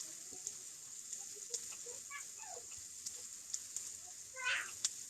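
An egg quesadilla with ham, broccoli and cheese browning in a frying pan, giving a steady faint sizzle with a few small pops and light utensil taps.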